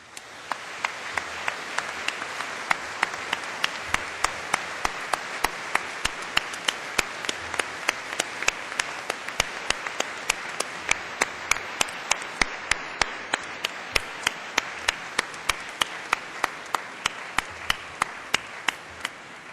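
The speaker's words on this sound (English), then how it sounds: "show your appreciation by giving them all a big round of applause" Graduation audience applauding families at Cardiff University: sustained, even clapping from a large hall crowd for nearly twenty seconds, with one sharp nearby clapper cutting through at a quick steady beat.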